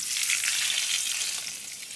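Potato pieces frying in a little oil in a pan, a steady close hiss and crackle of sizzling throughout with no voices.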